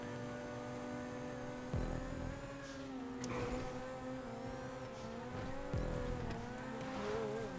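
Several Turismo-R race car engines in GTA whine at a high, steady pitch, with brief shifts and dips as they accelerate, over a constant low hum.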